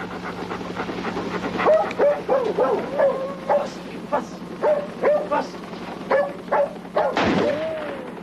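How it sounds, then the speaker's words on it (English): A dog gives repeated yips, barks and whimpers in short bursts close by, with a steady low hum underneath and no talking. "The dog appeared to be confused."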